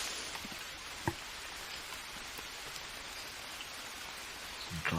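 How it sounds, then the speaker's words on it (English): Steady rainfall in the jungle survival game Green Hell, a soft continuous hiss with faint drops, one sharper tap early and a brief rustle at the very end, quiet and even. "It's still raining actually"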